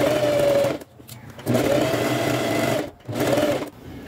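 A sewing machine stitches fabric for a scissor holder, with backstitching at the start and end. It runs in three close, steady whirring bursts separated by short pauses.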